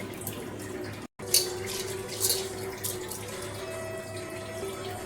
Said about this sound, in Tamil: பருப்பு நல்லா கழுவிட்டு வந்தாச்சு.